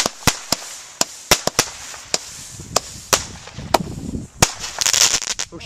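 Bonfire Night fireworks and rockets burst in sharp, loud cracks, about a dozen spaced irregularly, with a crackling flurry near the end.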